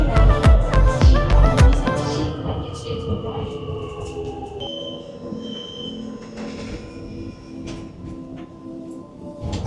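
A subway train clatters and rumbles through a city line with loud rail clanks and squeals at first. It then settles into a quieter steady running hum with faint tones from the carriage.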